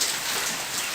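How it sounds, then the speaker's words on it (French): Heavy rain pouring down in a dense, steady hiss of drops striking surfaces, loud and close with no other sounds. "Comment il pleut?"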